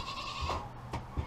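Farm goats bleat in a few short calls, close and moderately loud, over a quiet barnyard background.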